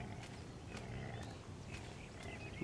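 A wild female Lystrosaurus in ARK: Scorched Earth gives faint, distant grunting calls, a few short repeated cries over a low, steady background.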